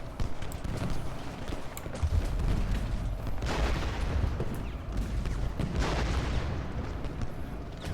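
Artillery fires in the Ultimate General Gettysburg video game as a dense, continuous battle rumble, with heavier swells of booming around the middle and later on, with no talk.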